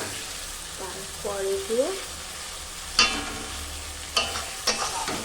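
Masala with eggs is stir-fried in a pan as a low sizzle runs under sharp, intermittent spatula scrapes. A voice speaks briefly near the start.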